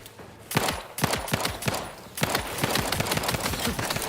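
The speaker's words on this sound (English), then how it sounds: "Mag dump, basically." Sustained automatic gunfire in The Outer Worlds 2, a weapon emptying its magazine in fast close bursts, with short gaps between strings of sharp rapid shots that grow denser toward the end.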